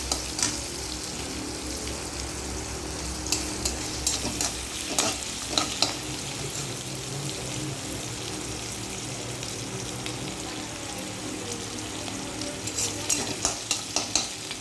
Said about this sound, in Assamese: পিঁয়াজখিনি ভজা হ'ব।